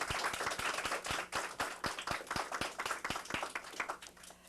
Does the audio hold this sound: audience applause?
yes